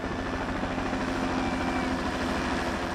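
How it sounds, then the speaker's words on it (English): A police helicopter flies overhead above a pipeline protest site, its rotor throbbing in a steady, loud pulse that holds constant throughout with no talking. "Shortly after prayer, the police helicopters appear."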